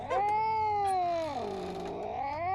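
A cat yowls and caterwauls in one long, loud, wavering cry that dips in the middle and rises again, with no other sound around it. The animal is caught in a bear trap in a Junji Ito survival horror video game.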